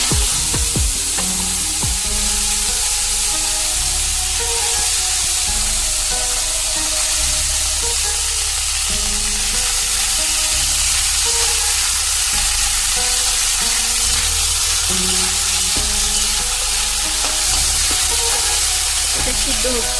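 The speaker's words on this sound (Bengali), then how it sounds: "গরম মশলা, গোটা গরম মশলা, আদা কুচি দিয়ে আমি ভেজিটেবলটিকে ভেজে নেব।" Vegetables frying in a pan with whole garam masala and chopped ginger, giving a steady broad sizzle that runs throughout with occasional stirring clatter, loud and close.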